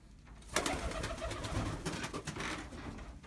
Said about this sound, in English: I can let these pigeons out of the feeder now and close the window.